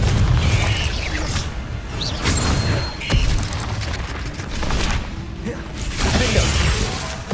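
Confringo fire spell explosions in the Hogwarts Legacy video game go off as a run of loud, booming blasts with crashing debris, rising and falling over a dense, rumbling background.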